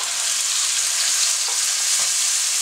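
Tomato sizzling in a hot pan with minced ginger and garlic for a stir-fried bowtie pasta, a steady close, bright frying hiss throughout with a couple of faint stirring knocks.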